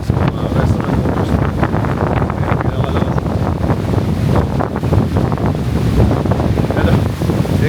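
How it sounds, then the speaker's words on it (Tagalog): Loud, gusty wind buffets the microphone continuously on a Boracay beach, roaring over the wash of surf on the shore, with no pauses throughout. "ganito kalakas yung hangin sa Boracay"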